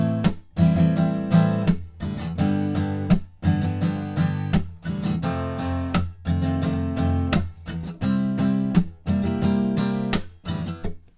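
Acoustic guitar strumming a full verse chord progression at an upbeat tempo from a song, steady down-up pattern with percussive slap accents between chord changes, close and clear with no voices.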